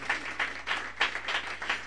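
A congregation claps in rhythmic bursts during a Catholic sermon in Racantacaj, several moderately loud swells of applause over about two seconds with no talking.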